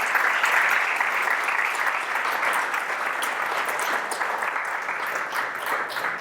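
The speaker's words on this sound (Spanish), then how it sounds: "vamos a darle un aplauso al Señor por esa palabra" A church congregation applauds for the Lord during a Sunday service, a broad sustained wash of clapping that holds steady and loud throughout.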